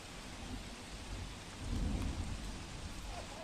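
Steady heavy monsoon rain in Bhavnagar district pours down in a dense, constant wash, with a low rumble of thunder swelling in the middle.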